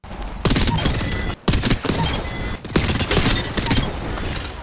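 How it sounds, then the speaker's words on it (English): The Nemesis Rifle, a burst-firing energy weapon in a team deathmatch shooter, firing loud, close volleys of rapid zapping shots in repeated bursts with only brief pauses between them. "we got a new energy weapon, the Nemesis Rifle. This gun is a burst energy weapon whose fire rate gets faster and faster the more you shoot it"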